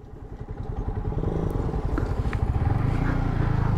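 Motorcycle engine roaring at close range during a freestyle drag race among an R15 v3, MT-15, NS200 and Duke 200, loud and steady with rapid pulsing as it pulls hard through the gears, no talk over it.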